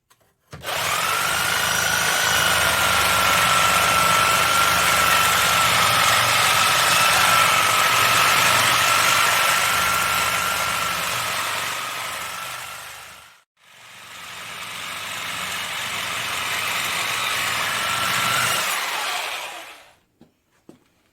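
A Nelson Brothers hit and miss engine runs steadily and loudly with a sustained mechanical drone, broken by a brief gap partway through, then running again before stopping near the end.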